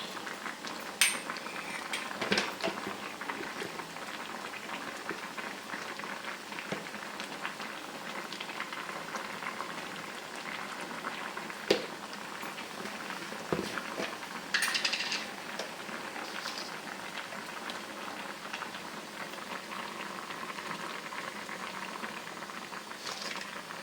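A pot of jackfruit erissery curry boils steadily, with a close, continuous bubbling and popping and a few sharp metallic clinks scattered through it, no talking.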